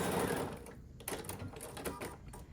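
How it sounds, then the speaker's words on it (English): A sewing machine whirs and rattles steadily while stitching quilt rows together, close and moderately loud, briefly slowing near the end of a seam. "we can just come down here and sew this"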